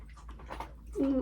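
A dog loudly crunching its food close by, a short run of crisp, irregular chewing crunches that grow louder toward the end.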